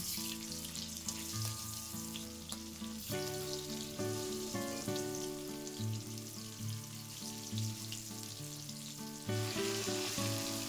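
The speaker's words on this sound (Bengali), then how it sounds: "আড় মাছটা খুব সাবধানে ভাজতে হবে তেলের মধ্যে দিলে খুব ছোটে তেলটা" Pieces of aar fish fry in hot, spattering oil with a dense, even sizzle and scattered pops, running steadily under background music with no talking.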